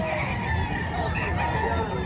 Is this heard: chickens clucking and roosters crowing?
yes